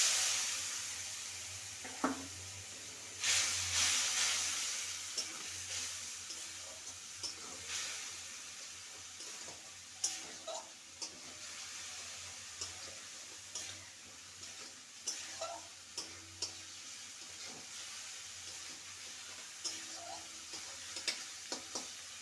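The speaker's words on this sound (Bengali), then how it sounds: "এবার পোস্তটাকে ভালো করে ভেজে নেব।" Poppy seeds seasoned with chili powder fry in a pan with a faint, steady sizzle. A spoon stirs and scrapes at irregular intervals throughout.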